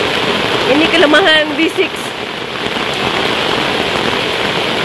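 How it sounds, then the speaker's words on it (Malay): Steady rain patters at a riverside campsite on the Chor River in Sahom, a constant hiss throughout, with someone speaking briefly over it. "As expected lah hujan."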